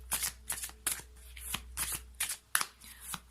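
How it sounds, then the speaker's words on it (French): Oracle cards are shuffled by hand close up, about eight quick riffling bursts in an uneven rhythm, soft and crisp against a quiet room. "on va prendre aujourd'hui encore une carte de l'oracle Marie, Reine des Anges"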